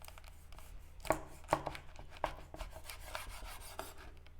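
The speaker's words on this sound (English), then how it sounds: "Let's cut that in the middle." Knife cutting through a thick piece of air-dried South African beef biltong, a quiet series of dry scraping, rasping strokes with a few sharper cracks as the blade pushes through.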